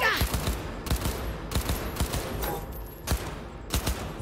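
Gunfire in Cyberpunk 2077, a series of sharp bursts of automatic fire in uneven clusters, close and fairly loud against a quieter game background.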